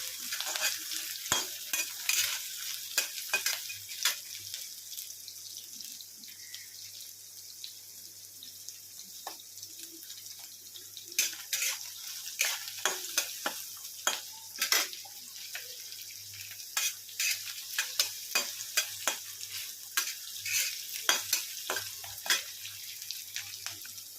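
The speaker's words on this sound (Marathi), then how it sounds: "तर कांदा छान असा परतून घेणार आहोत" Onion for poha is sautéed in a pan: a soft, steady frying hiss runs under frequent sharp spatula scrapes and taps against the metal, close but fairly quiet, with no one speaking.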